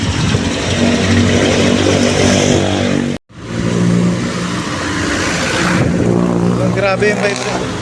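A Honda Click 125 scooter runs up close with a loud, continuous engine drone, briefly cut off, then resuming while someone talks over it.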